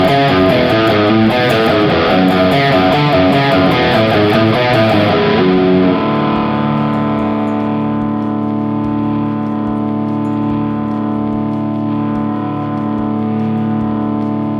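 Distorted electric guitar playing a riff on undamped strings: a loud, busy chugging run for about five seconds, then a long ringing wash of sustained open strings that slowly decays.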